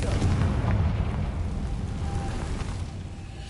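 A Confringo fire spell explodes in the PS5 game Hogwarts Legacy, giving a deep, rumbling boom that fades away over a few seconds with no talk.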